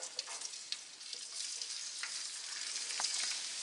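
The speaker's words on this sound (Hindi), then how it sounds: "लहसुन डाल लेते हैं।" Garlic frying in a small amount of strained oil for beef chilli, a steady close sizzle with faint crackles and occasional stirring clicks, no talking.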